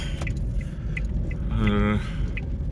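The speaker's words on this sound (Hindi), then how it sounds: "मेन रोड पे आ गए, ट्रैफिक चल रही है यहाँ पे।" Traffic on a main road at dusk makes a steady low rumble, with one vehicle passing in a brief rising drone, while someone talks over it.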